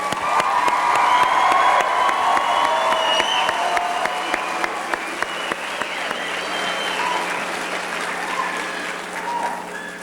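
An audience applauds ADN, LVN and psychiatric technician graduates at a Delta College nurses' pinning ceremony. The clapping is loud and sustained, with scattered cheers and whoops, and it fades slightly toward the end.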